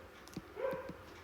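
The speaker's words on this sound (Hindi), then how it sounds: "एक कुत्ता पागल होकर भौंक रहा है," A dog barks at night, a few faint, quick barks and yips from some distance against a quiet background.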